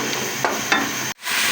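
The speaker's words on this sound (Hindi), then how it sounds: "अब मैंने इसे 4-5 मिनट तक फ्राई कर लिया है" Aloo chicken sizzling in a pan: a steady, close frying hiss with a few soft stirring scrapes, which cuts off abruptly before the sizzle returns.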